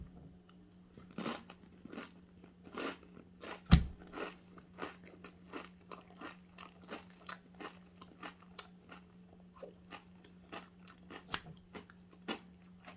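Crisp crunching bites and steady chewing of a poblano pepper stuffed with cranberry jalapeño cream cheese, close and fairly quiet, with repeated crackly crunches over about thirteen seconds.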